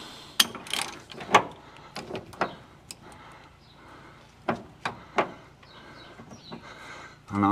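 A ratchet works on the idler arm bolt of a Holden HK, giving short bursts of close metallic clicks separated by pauses.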